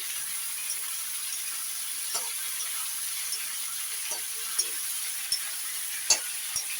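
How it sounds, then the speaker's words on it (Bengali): Tomatoes with salt being stirred while they fry in a pan, a steady quiet sizzle running throughout, broken by occasional light spoon taps and scrapes against the pan. "এর সাথে আমি দিয়ে দেবো টমেটো, দিয়ে একসঙ্গে নাড়াচাড়া করবো।"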